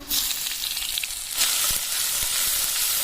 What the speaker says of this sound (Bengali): কালো জিরে দিয়ে দিচ্ছি ফোড়নে থেতো করা রসুনটা দিয়ে দিচ্ছি